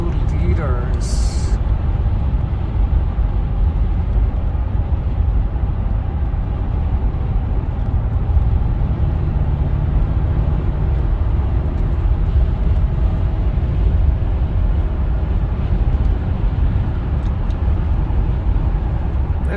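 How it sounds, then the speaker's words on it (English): Friday rush-hour traffic on a road in Apex, North Carolina, heard from inside a supercharged 4.2-litre V8 Jaguar XKR: a steady low road and engine rumble throughout, with a short sharp noise near the start. "This is rush hour in Apex, North Carolina, believe it or not."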